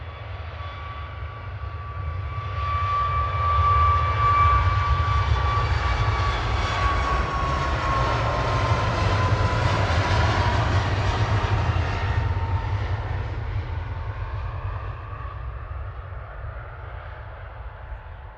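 A Ryanair Boeing 737 MAX 8 bound for Faro rolls out of Manchester Airport in the evening, a steady engine drone with a thin whine that builds, holds strongly, then fades slowly into the distance.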